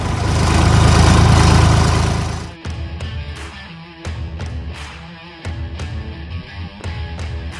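A tractor engine runs loud and steady at first, then drops to a lower idle with a rough, uneven low rumble and periodic clunks.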